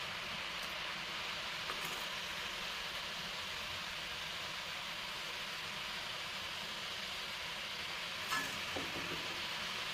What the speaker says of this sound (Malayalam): പിന്നെ നന്നായിട്ടൊന്ന് തിളച്ച് ഒന്ന് വറ്റി വരട്ടെ കേട്ടോ